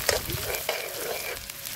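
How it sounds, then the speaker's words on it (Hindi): Onions go into a hot pan for chicken curry and sizzle steadily and briskly, close by and without speech, for a short stretch. "अभी हम प्याज डालते हैं"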